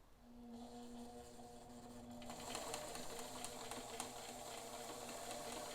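A Bernina 530 Record sewing machine stitching a test zigzag, its fast steady mechanical whir and needle chatter starting softly and then running louder and continuous for several seconds, close by with no talking.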